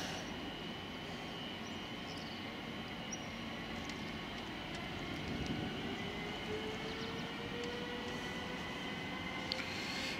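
Eurocity train hauled by electric locomotive 193-639 pulling away from a station in Frankfurt (Oder), a steady low rumble of wheels and rail noise with a faint rising tone, moderately distant and continuous.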